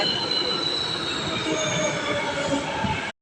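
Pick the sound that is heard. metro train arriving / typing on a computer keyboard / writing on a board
metro train arriving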